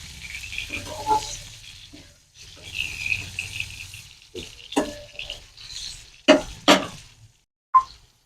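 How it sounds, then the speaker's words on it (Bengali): Pointed gourd (potol) pieces fry in oil in a pan, giving a soft steady sizzle broken by sharper crackles and spits, close and moderately loud, with no talking. "ওই জন্য পটলগুলো একটু ভেজে নিচ্ছি।"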